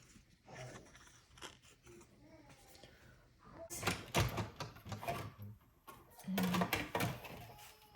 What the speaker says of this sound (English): We're going to go ahead and run that through our Stampin' Cut and Emboss machine